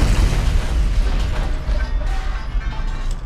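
Explosion effects from the GTA 5 Rockstar Editor, a loud continuous roar of rumbling blasts and crackling debris that runs without pause.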